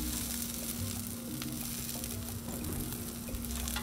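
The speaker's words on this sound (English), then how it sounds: "A little more oil, and then we put our" Asparagus spears sizzle in oil on a Blackstone griddle, giving a steady, close frying crackle with a faint hum running underneath.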